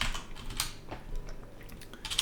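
Keys clatter in scattered bursts on a computer keyboard while a blueprint is set up in Unreal Engine 4, the taps fairly faint and close with brief pauses between them, no talking.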